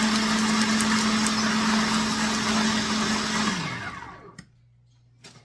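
Electric mixer beating bird biscuit dough in a bowl, a loud steady motor whine that runs for several seconds, then winds down and stops, leaving near silence with a couple of faint knocks.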